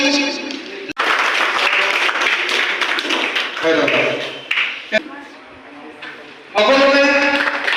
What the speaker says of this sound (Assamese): সকলোকে হাত চাপৰি কৰিবলৈ জনাইছোঁ।